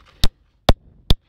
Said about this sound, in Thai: นี่ คือเสียงหิน